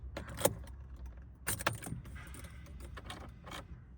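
Keys jangle at the ignition of a Peugeot 208 with a PureTech engine in a garage after a fuel pump replacement, two short metallic rattles followed by faint clinks, close by with low background noise.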